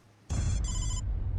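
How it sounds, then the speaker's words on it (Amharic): A mobile phone rings loudly and close by in two bursts of electronic ringtone, the first pause brief, the second burst running on to the end, with no talk over it. "የኔ ስልክ ነው።"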